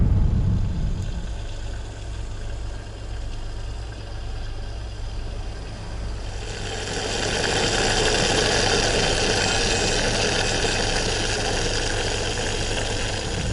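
A car engine pulls away along a snowy road in the Arkhangelsk region on the way back from the White Sea, a steady low drone that swells in rumble and road noise as it gets under way, with no talk.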